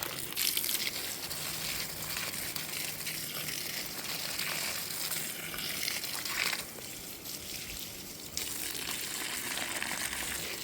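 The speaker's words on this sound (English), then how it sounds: "I've got to water this here." A hose spraying water over garden plants, a continuous rushing gush with crackling spatter on leaves that pauses briefly partway through and then resumes.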